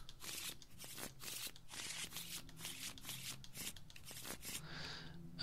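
A deck of Arkham Horror game cards is shuffled by hand, with repeated riffling flutters and soft card slaps, close and quiet, with no talk.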